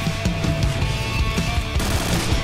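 Rapid automatic fire from an AUG A3 assault rifle in the shooter game Point Blank, a steady run of sharp shots at a moderate cyclic rate, loud and close with no talk over it.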